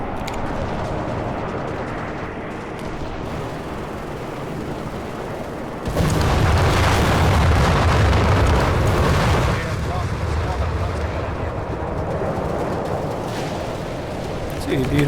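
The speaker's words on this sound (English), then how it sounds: "And then we've got another carpet bombing run here." Carpet bombing run in a WWII strategy video game, a dense sustained roar of overlapping explosions that swells suddenly and rumbles on loudly, with a commentator talking over it.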